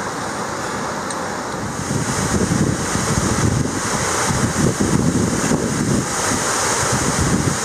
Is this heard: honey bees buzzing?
no